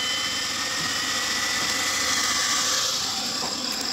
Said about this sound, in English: So we increase the speed of our air blower.